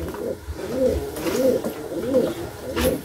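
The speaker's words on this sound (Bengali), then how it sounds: "খুবই সুন্দর কোয়ালিটি আছে পায়রাটা।" A Saharanpuri pigeon coos close by in soft, rolling calls that repeat about every half second, with a faint higher chirp near the end.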